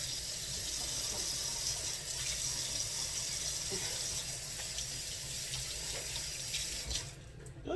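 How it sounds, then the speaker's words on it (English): A kitchen tap runs steadily while hands are washed under it, a broad, even rush of water that continues without a break until it cuts off near the end. "So now I'm going to wash my hands"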